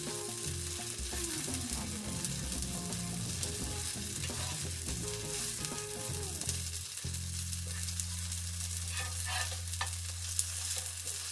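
Paneer fried rice stir-fried in a pan with a steady, close sizzle and repeated scraping and stirring of a spatula, the frying hiss settling into a continuous steady rumble in the second half.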